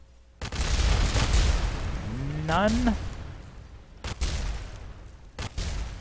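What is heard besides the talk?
explosion of crashing rocket in Kerbal Space Program video game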